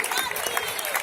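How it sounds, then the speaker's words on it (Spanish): Crowd applause for the Club Atletismo Porriño at a 10 km race, a brief dense patter of many hands clapping with no clear start or end. "Pues es un fortísimo aplauso para el Club Atletismo Porriño,"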